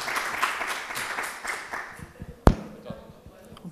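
At a French conference session, a room of listeners claps briefly and the applause thins out within two seconds. A sharp thump follows, and faint voices and scattered taps continue in the quiet that remains.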